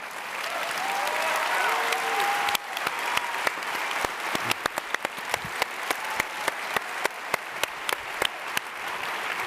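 An audience applauds at a live talk event, a full steady roar of clapping that thins after a few seconds into a sparser patter of individual claps, with a few faint vocal whoops early on.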